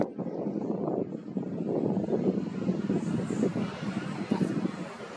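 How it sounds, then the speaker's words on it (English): Wind buffets the microphone in a continuous, gusty low roar, loud and close, with no break across the clip, outdoors in Gibraltar at evening. "It's well windy."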